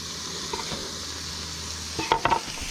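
Steamer clams and chunky bacon sizzle in a camp pan, a steady close frying hiss broken near the end by a few sharp clinks and scrapes of stirring.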